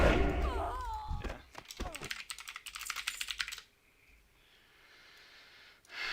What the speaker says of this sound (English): I just hear you spamming keys